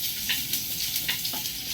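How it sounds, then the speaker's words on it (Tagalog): Garlic and onion sizzle steadily in a hot pan, a soft continuous frying hiss with faint stirring scrapes, sautéed as the start of ginataang langka. "Pag nagluluto ako guys ng langka, ginigisa ko muna yung bawang tsaka sibuyas."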